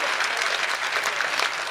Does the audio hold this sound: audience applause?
yes